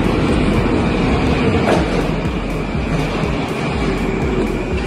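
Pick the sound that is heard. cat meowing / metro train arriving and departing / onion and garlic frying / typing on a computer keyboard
metro train arriving and departing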